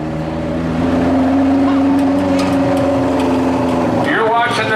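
A 1,200-pound modified racing lawn tractor engine drones loud and steady close by, a sustained mechanical hum that begins to shift and rise near the end.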